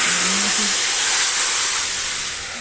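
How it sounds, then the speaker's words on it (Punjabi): Hot tempering of cumin, asafoetida and curry leaves is poured into a potato and green fenugreek kadhi, giving a loud, close, steady sizzling hiss that slowly fades over a couple of seconds. "ਜਿਹੜਾ ਤੜਕਾ ਆ ਉਹ ਇਹਦੇ ਵਿੱਚ ਪਾ ਦੇਣਾ ਆ ਕੜੀ ਦੇ ਵਿੱਚ"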